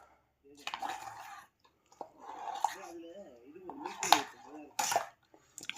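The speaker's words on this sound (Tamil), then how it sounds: "கொஞ்சம் கலக்கி விட்டுருவோம்." Metal clinks and scrapes of a spoon stirring milk in a pot, with light splashy sounds, in short bursts separated by brief pauses.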